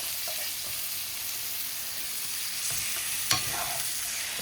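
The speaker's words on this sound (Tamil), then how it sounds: "முட்டை போட்டுட்டு ஒரு கரெக்டாக 2 மினிட்ஸ் ஸ்லோ ஃப்ளேம்லேயே இதை வந்து வதக்கிக்கோங்க." Eggs sautéing in spiced masala in a pan over a slow flame give a steady, soft sizzle, with a few light stirring scrapes and one brief sharper clink near the end.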